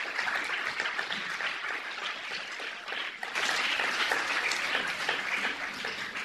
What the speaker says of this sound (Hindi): इसके जोरदार तालियां